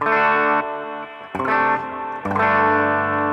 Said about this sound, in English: down here I've got a spring reverb, but I've got control over the feedback here and the level